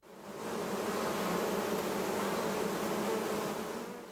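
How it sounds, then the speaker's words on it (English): Honeybees buzz outdoors near Lewisburg, making a dense, steady, close drone that swells in and holds at constant loudness with no voices. "There's a buzz in the air near Lewisburg."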